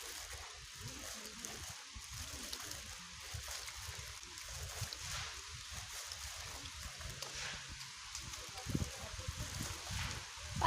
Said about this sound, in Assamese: ঝৰ্ণাৰ মাত, পানীৰ মাত ইমান ধুনীয়াকৈ আহি আছে।